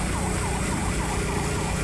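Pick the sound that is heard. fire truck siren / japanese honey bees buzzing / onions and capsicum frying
fire truck siren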